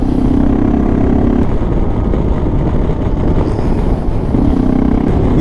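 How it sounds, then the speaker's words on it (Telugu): A motorcycle engine drones steadily and loudly throughout while riding on a road in South Africa, a constant close-up rumble with wind noise and a faint tonal hum that fades and returns. "ఈ సౌండ్ కొంచెం టైం వరకే బాగుంది వినడానికి, బైక్ సౌండ్."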